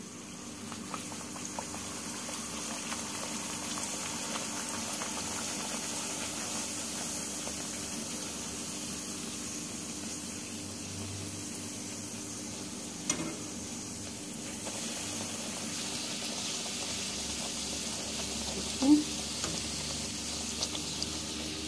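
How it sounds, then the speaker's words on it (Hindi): Puris deep-frying in hot oil, a steady, fairly soft sizzle and bubbling that continues throughout, with a couple of faint clinks from a utensil. "ये देखिए मैंने ये पूड़ियाँ तल ली हैं।"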